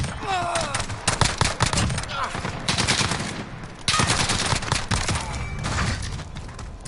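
Rapid pistol fire in Call of Duty: Modern Warfare, loud bursts of close gunshots in quick succession with short pauses, layered over game ambience, no talk.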